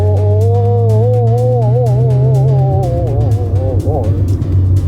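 Mazda RX-7 FC turbo accelerating with a steady, loud engine drone that rises and falls, heard from inside the car while people talk over it.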